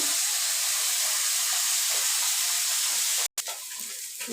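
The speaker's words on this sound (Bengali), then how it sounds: "ওইদিকে কয়টা মাছ ভাজা হয়ে গেছে ভাজা এখন আর একটু ভাজা বাকি" Small fish frying in hot oil, a steady bright hiss and sizzle filling the whole clip with one brief dropout near the end, close and fairly loud with no talking.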